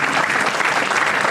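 An audience claps after a swing song at a live show, a dense, steady burst of applause filling the whole moment.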